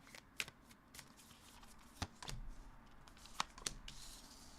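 Tarot cards are shuffled by hand close up, giving quiet riffling flutters and sharp slaps in irregular bursts, without talk.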